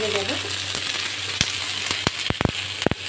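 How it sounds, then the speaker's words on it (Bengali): Chopped onion and capsicum frying in a pan, a steady hiss of sizzling broken by several sharp scraping stirs and clatters toward the end, close and fairly loud. "একটু নেড়ে দেব।"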